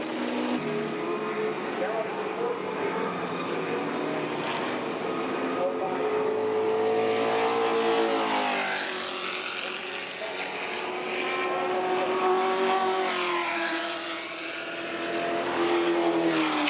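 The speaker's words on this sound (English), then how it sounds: "Time to see and listen to the GT40s in action in the double-driver endurance race." Ford GT40 race cars, including a Mk IV, roar through a two-driver endurance race. Loud engine notes run continuously and swell and fade as cars pass and shift, with the pitch sweeping up and down.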